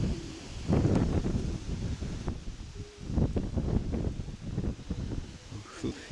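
Wind gusts outdoors where pigeons are flying, buffeting the microphone in uneven rumbling surges with some rustling; a person talks intermittently underneath.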